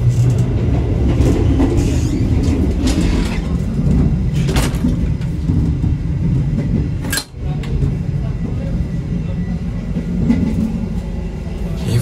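Interior of the Taksaka Intercity executive stainless-steel carriage on the Yogyakarta–Jakarta Gambir run: a constant low rumble and rolling hum with occasional clinks and a sharp click midway, and faint voices in the background.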